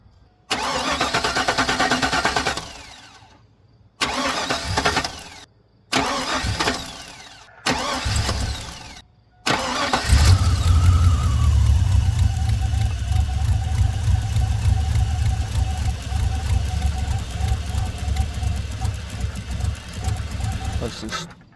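A Chevy Silverado truck with newly replaced fuel injectors cranks in several separate bursts with pauses between them, then catches and settles into a steady, fairly loud idle that runs on. Some talk is heard over it.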